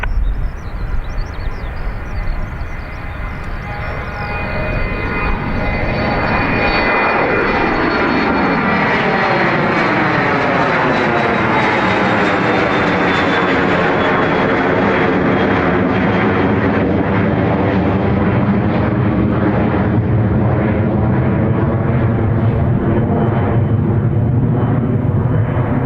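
A fixed-wing airliner on the north runway at Dublin Airport, its engine roar swelling loud and continuous, with a sweeping pitch shift as it passes close and keeps rumbling steadily for the rest of the stretch.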